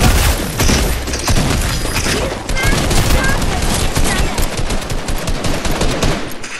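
Rapid automatic gunfire in the Fortnite video game, loud bursts of shots rattling close by in quick succession with only brief gaps.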